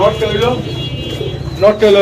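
A red roller pigeon at a pigeon farm coos in soft low bursts near the start and again at the end, partly masked by steady nearby talking and background chatter.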